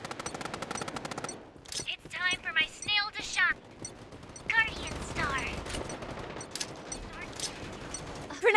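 Rapid bursts of automatic gunfire in the shooter game Strinova, crackling loud and close in quick volleys, mixed with game effects and voice lines.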